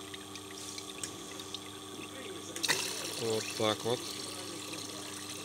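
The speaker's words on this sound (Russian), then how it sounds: "Отрабатывает промывка." A water filter controller runs its flush cycle, with a steady rush of flowing water and a hum from the unit, heard close. Someone speaks briefly over the sound.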